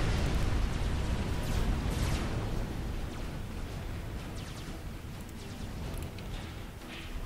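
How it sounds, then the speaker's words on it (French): Bomber bombs explode in the real-time strategy game Supreme Commander: Forged Alliance, a dense, continuous rumbling roar of blasts that slowly fades over several seconds. "J'adore les explosions de ces bombes de bombardement."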